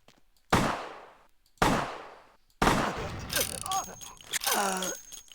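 Gunfire in Vampire: Bloodlines: two loud, close shots about a second apart, each trailing off in a long echoing decay, then a third blast followed by a clatter of tonal, groaning game noises.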